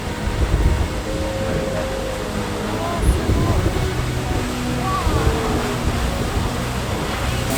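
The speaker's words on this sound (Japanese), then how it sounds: "水しぶきすごい" Dense roaring spray from a waterfall beside a tour boat at Milford Sound, a broad steady wash of water and wind noise up close, with people talking underneath.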